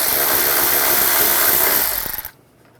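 A tool working off nuts from the engine cover of a BMW 550i, a loud close mechanical whir and rattle that winds down and cuts off near the end.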